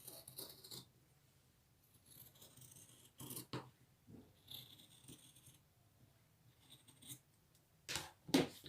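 Scissors cutting fabric pieces for an apron: quiet, close snips and rustling in several short bursts separated by pauses, fairly faint and with no talking.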